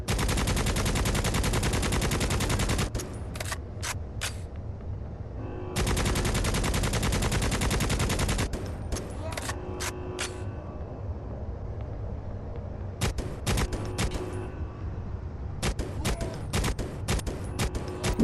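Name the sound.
rifle gunfire in the video game Necromunda: Hired Gun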